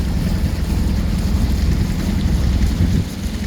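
Sailboat motoring under engine power in a flat calm near the entrance to Le Crouesty harbour, a steady low rumble with wind and water noise throughout and no talk.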